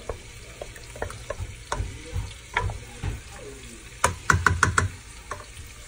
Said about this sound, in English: let's just give this a good stir